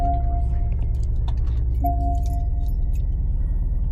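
A Porsche Cayenne engine starts up and settles into a loud, steady, low rumbling idle, with a brief chime and some light clicks at the beginning.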